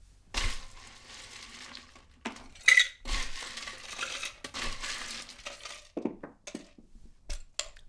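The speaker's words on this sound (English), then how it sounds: "So let's add some ice to our shaker tin here." Ice cubes clatter into a metal cocktail shaker tin in several loud bursts of rattling and clinking, with a few scattered cubes tumbling and knocking afterward.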